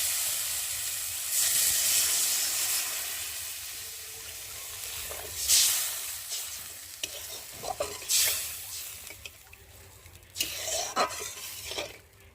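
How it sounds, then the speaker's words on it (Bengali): Water poured into a pan of frying masala for a Bengali bhola fish curry, with loud steady stirring and sizzling, hissing bursts of steam, and occasional scrapes of a spoon against the pan. "আর এখন আমি মশলার মধ্যে জল দিয়ে দেবো।"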